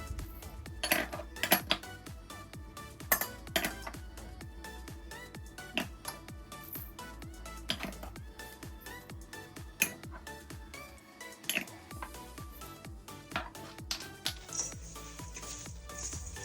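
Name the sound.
mixing yogurt garlic ginger marinade in mixing bowl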